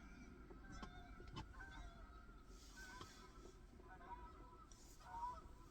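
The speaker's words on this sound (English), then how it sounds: "You hear a whole bunch of geese" Faint geese honk in the distance over a windy outdoor background, calls scattered and irregular.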